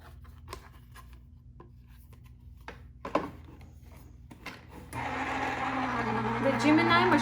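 A Gemini electric die-cutting machine runs cardstock and a stencil through for embossing, starting as a steady mechanical whir and hum partway in after a few soft handling knocks and rustles, continuing at moderate volume to the end.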